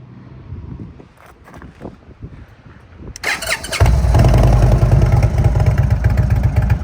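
A deep V-twin motorcycle engine, a Thunderstroke in a 2023 Indian Chieftain Limited, rumbles at idle, loud and close, with a steady low throb; wind noise buffets the first few seconds before the engine swells.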